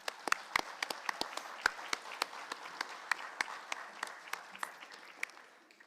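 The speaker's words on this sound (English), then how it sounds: "Let's give everyone a big round of applause." Sparse, quiet clapping from a modest audience welcoming students at a leadership gathering, with distinct individual claps rather than a full roar, steady for about six seconds.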